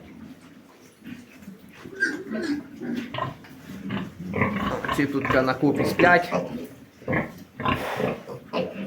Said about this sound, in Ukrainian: Тут маємо наша друга свиноматка.